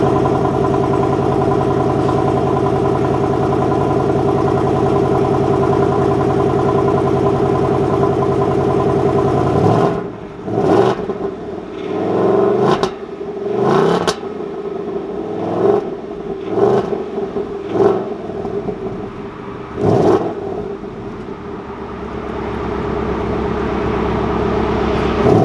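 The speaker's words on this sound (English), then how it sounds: "Now this engine actually sounds incredible," A 2024 Ford Mustang GT with its 5-liter V8 idles at a steady, loud rumble, then gives a run of sharp, repeated revs that rise and fall at close range before it settles back to idle.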